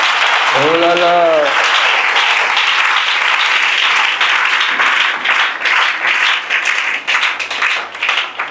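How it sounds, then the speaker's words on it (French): Loud, sustained applause and clapping from a crowd at a religious gathering acclaiming Jesus, with a brief vocal exclamation near the start, steady throughout. "On acclame Jésus."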